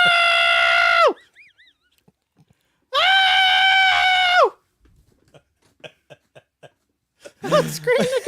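A person lets out two long, loud, sustained screams, each lasting over a second with a strong ringing pitch, separated by a brief breathy pause, followed by scattered short vocal sounds and a final burst of laughing noise.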